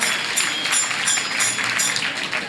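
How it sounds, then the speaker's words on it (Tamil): A hall audience applauds, a dense, even wash of clapping that carries on steadily at close range with no talk over it. "அனைவரும் கைதட்டி ஆரவாரம் எழுப்புமாறு கேட்டுக்கொள்கிறோம்"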